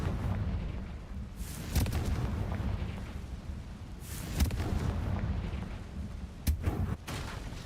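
Confringo fire spell blasts in the video game Hogwarts Legacy, a few sharp booming bursts over a continuous rumbling game soundscape.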